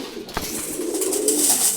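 Pigeons cooing softly as they feed from separate food laid out to the side, low throaty calls with a light, airy rustle over them, close by.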